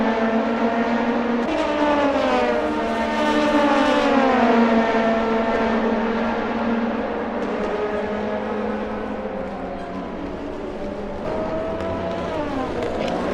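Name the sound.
race cars racing at The Glen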